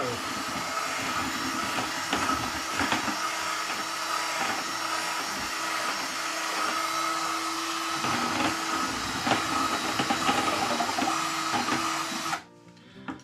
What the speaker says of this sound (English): I have to mix up my paint a little bit more.